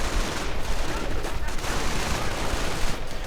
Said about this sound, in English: Grenades on the stormtroopers.